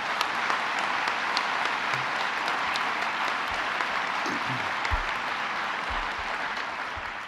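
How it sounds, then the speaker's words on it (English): Audience applause at a Governor Cuomo economic development announcement, honoring an official. The clapping is steady and dense and holds at an even level for the whole stretch, with no talk over it. "Let's give him a round of applause"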